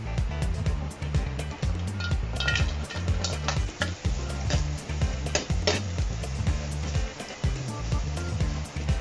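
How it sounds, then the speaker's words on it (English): Carrots sizzling in hot oil in a pan, a loud, continuous frying hiss with stirring scrapes and clatter throughout, no voices over it. "So after we heat it up, we will put the carrots first since it is much harder to cook."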